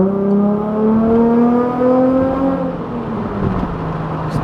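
A Nissan 350Z fitted with a new exhaust revs up and down, its deep engine note rising and falling in steady sweeps, loud and close, with no voices over it.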